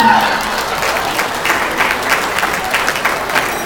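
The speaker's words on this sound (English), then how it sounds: "So keep giving him a round of applause." Wedding guests applaud the groom with a sustained burst of clapping from a crowd, dense and steady throughout, with a brief voice at the start.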